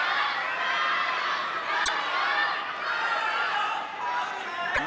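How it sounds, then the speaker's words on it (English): A partisan home crowd at a men's table tennis final in China cheers and roars continuously, a broad wash of voices with a couple of sharp clacks, while a commentator talks over it. "Just listen to the partisan crowd."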